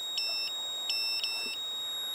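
Short high-pitched electronic beeps from a hexacopter drone's camera gimbal control reaching center position sound in two bursts, one single and one double, clear and close against a quiet background.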